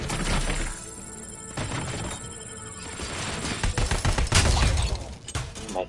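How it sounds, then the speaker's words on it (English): Gunfire from the favorite gun in the Robocop Rogue City video game, a run of loud rapid shots with crashing impacts, near and sustained, building toward the end. "This is my favorite gun in the game."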